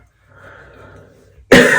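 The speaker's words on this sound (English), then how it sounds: "Usually I don't cough in my hands" A single sharp cough bursts out close by near the end, after a stretch of soft mumbled talk and breathing.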